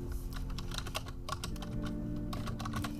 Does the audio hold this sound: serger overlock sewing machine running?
no